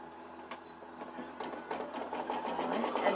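A sewing machine stitches quilt fabric pieces with a 1/4 inch seam, its rapid mechanical ticking speeding up and growing louder, with a voice talking faintly underneath.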